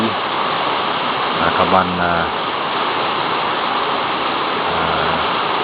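The Sungai Sungkai river in Perak flows as a steady broadband rush at dusk, with a person speaking briefly over the constant water noise.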